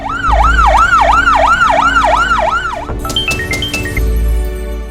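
A loud wailing ambulance siren cycles up and down repeatedly nearby, then cuts off, followed by a few sharp electronic chirps.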